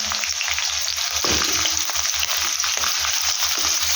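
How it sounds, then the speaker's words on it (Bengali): Potatoes frying in a pan over raised gas heat give a steady, loud sizzle throughout, broken by a few soft stirring knocks. No one speaks. "আলুগুলোকে দিয়ে আমি এটাকে ভালো করে একটু ফ্রাই করে দেবো।"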